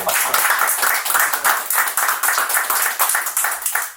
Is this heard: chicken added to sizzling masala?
no